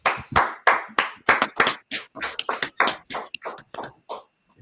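Rhythmic clapping from a gathered audience at a religious meeting, sharp distinct claps in a steady repeated pattern that slows and thins toward the end, close and fairly loud with no talk.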